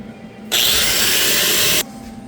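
A power tool cuts through a seized hub sleeve on a Chevy K10 square-body truck during a ball joint and Warn hub job, one loud steady grinding burst of about a second and a half, close up and alone.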